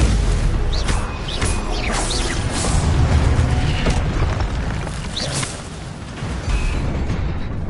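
Stupefy spell blasts in Hogwarts Legacy combat, heavy booming impacts and crackling magical whooshes layered over a dense, loud battle din, with sharp bursts recurring every second or two and no voices.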